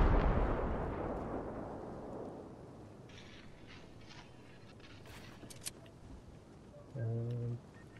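A grenade goes off in a Fortnite match: a deep, booming blast that rumbles and fades over a few seconds, followed by faint game clicks and a short tonal game beep.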